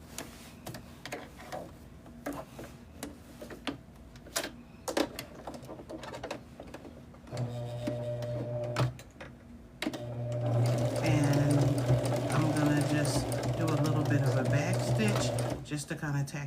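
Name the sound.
sewing machine stitching a quilted bag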